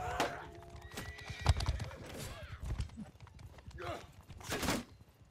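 Horses in the medieval combat game Bannerlord, with rapid clip-clop hoofbeats of galloping mounts and several loud, shrill neighs and whinnies, the last near the end, over busy battle din.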